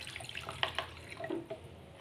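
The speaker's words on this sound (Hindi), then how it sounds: "अब ये जो कटोरे में हमारे मसाला वगैरह लगा हुआ है ना, वो भी हम थोड़ा पानी डाल के इसको खंगाल लेंगे" Water poured into a bowl coated with masala to rinse it while making veg biryani, heard as soft splashing and trickling with a few faint drips, fairly quiet and with no voices.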